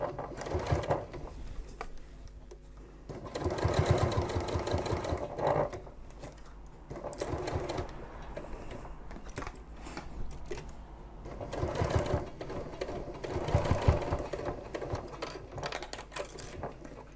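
A sewing machine stitches a medication bag organizer with lining about 1/8 inch from the edge at stitch length 5, running in steady, fairly quiet bursts of rapid needle chatter with short pauses between runs.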